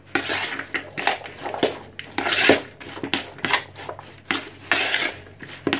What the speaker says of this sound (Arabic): وغادي نخلط